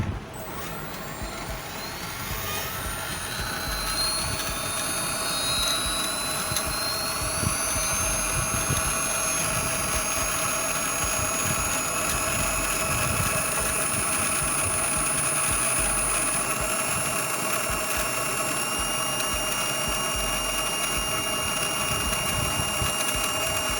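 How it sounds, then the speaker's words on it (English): A brushless motor driven by an ESC and Arduino runs continuously with a close, steady high-pitched whine and bright tonal harmonics over a rushing airy hiss. "we have uploaded code and the motor is running."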